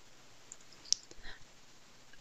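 A computer mouse right-click, one crisp close click followed by a few faint soft clicks in a quiet room.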